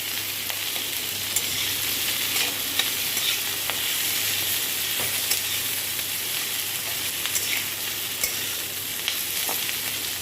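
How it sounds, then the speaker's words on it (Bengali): Potatoes and onions being stirred in a frying pan, a steady sizzle with scraping spoon strokes and occasional sharp clicks, close and continuous with no talking. "যে আমি নাড়ছি।"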